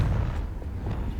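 A fire-blast spell explodes in the video game Hogwarts Legacy with a loud, sustained low rumbling boom that fills the whole moment without fading.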